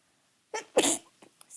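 A single loud sneeze with a short breathy intake just before it, followed by a few faint small sounds in an otherwise quiet room.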